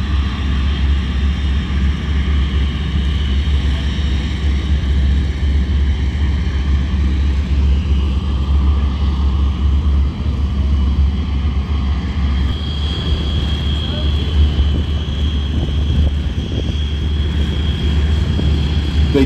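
Beech 18 twin-engine aircraft flying a display at the Temora Aviation Museum airshow, a loud, steady, low engine drone that holds throughout with a slight shift near the end.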